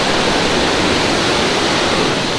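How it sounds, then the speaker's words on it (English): Roaring water pours through an eroded funnel of quartzite rock in the Colorado mountains, a loud, steady, close rush with no break and no voices. "Listen to the roar of that and look at that water pour through that eroded section of quartzite right there, creating a funnel."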